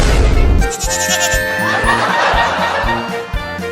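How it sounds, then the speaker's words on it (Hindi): Cartoon goat kid bleating repeatedly in a comedy cartoon farm scene, a loud wavering bleat with rhythmic pulses over background music. "ये तो बड़ा ढीठ बकरी का बच्चा है, भाग ही नहीं रहा।"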